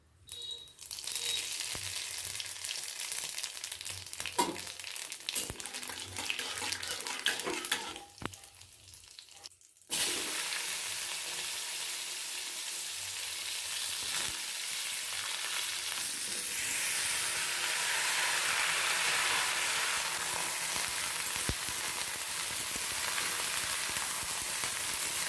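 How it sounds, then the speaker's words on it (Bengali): Radhuni seeds crackle and sizzle in hot oil in a kadai, a loud, steady frying hiss that jumps sharply louder partway through and keeps up with bursts of spitting, with no talk over it. "অন্য একটা কড়াই গরম করে তাতে নিয়ে নেব তেল। ফোড়নে দিয়ে দেবো রাঁধুনি"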